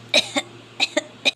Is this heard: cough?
yes